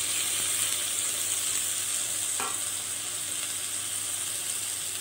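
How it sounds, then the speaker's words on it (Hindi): Tomatoes and onions frying in a pan over a high flame, giving a steady, close sizzle and hiss with a single brief stir partway through. "तो टमाटर को भी अच्छे से फ्राई करना है मुझे।"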